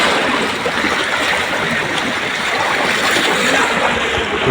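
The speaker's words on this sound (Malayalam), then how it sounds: "അവിടുന്നാണ് ഇങ്ങനെ വെള്ളം ഇങ്ങോട്ടേക്ക് ചാടുന്നത്" Floodwater rushes and churns steadily in a loud, continuous roar as it pours into a flood channel at Kondotty, Kerala. There is no pause or break in the flow.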